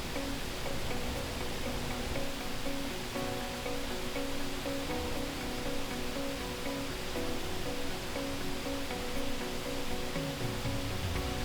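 Steady roar of a large waterfall on the river Skúa in Iceland, about 25 metres wide and over 60 metres high, a constant broadband rush heard alone at a distance.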